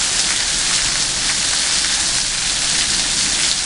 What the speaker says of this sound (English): Would you believe the day after Christmas we've got a hailstorm?